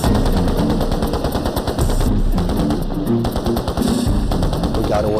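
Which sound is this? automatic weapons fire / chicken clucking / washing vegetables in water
automatic weapons fire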